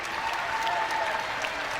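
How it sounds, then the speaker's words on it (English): A crowd at Bud Walton Arena applauds at the end of an Arkansas versus South Carolina college basketball game, a dense, sustained wash of clapping filling the arena. "Crowd here at Bud Walton Arena will applaud the effort."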